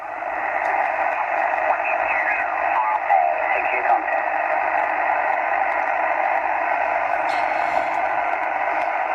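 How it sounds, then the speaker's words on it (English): Drake R-4C amateur radio receiver from a 1976 C-Line station, giving a steady, loud band of static and hiss while its PTO dial is tuned, with faint whistles and a brief crackle partway through, no voices. "very minor static on the PTO as I tune it."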